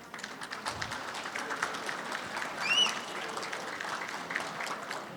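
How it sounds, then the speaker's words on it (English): Steady applause from a conference audience honoring the women during a keynote address, a dense even patter lasting throughout, with a brief whistle rising above it midway. "I want all of the men in here to give the women a round of applause."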